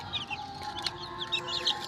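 Several desi chicks and hens clucking and peeping close by in a cage, short chirpy calls overlapping in a busy, uneven stream.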